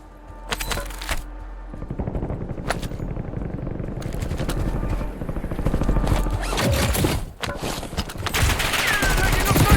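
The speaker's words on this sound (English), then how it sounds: "Who's the hell shooting at me?" Gunfire from the game Warzone: sharp shots and rapid automatic bursts, loud and close, with a pause in the firing midway before it picks up again. No one talks.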